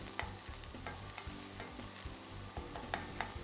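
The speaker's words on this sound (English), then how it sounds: "hear that sizzle? That's what we want." Vegetables and onions sizzle and fry in olive oil while being stirred, a dense, steady crackling hiss with faint clinks of the utensil, close and alone.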